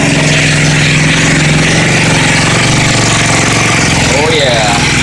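Freshly rebuilt car engine idling loudly and steadily nearby, a constant rumble with a brief rise in pitch near the end.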